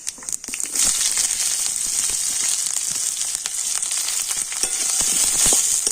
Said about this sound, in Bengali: তো আবার আমি কড়াতে দিয়ে দিচ্ছি সর্ষের তেল দিয়ে দিচ্ছি অল্প একটু পাঁচ ফোড়ন দিয়ে দিচ্ছি পেঁয়াজ আর কাঁচা লঙ্কা